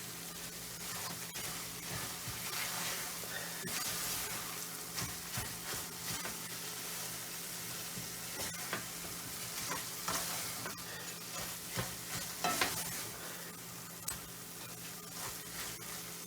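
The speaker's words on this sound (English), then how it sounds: "So now the sugar and the coconut is all caramelizing" A thick mixture of sugar and grated coconut caramelizing in a pot while being stirred for Jamaican grater cake, with steady sizzling, spoon scrapes and bubbling near and continuous, no talking.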